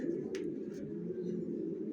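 Long-line Janssen racing pigeons in a loft coo softly and continuously in a low, murmuring drone, faint and close, with a couple of brief higher chirps.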